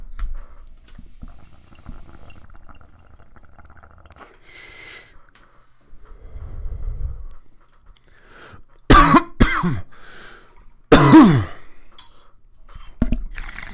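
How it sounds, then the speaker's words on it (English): Bubbling bong water gurgles quietly, then a person coughs hard in two loud bursts and gives a final short cough, close and harsh. "I always get hit by bongs. I don't know what it is. I always cough."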